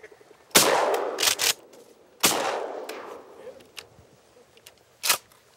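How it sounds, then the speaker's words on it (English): Shotgun blasts ring out across a Michigan marsh during a waterfowl hunt, two loud sharp shots about two seconds apart with echoing tails, followed by a few faint clicks and another short burst. "Two shots, one duck."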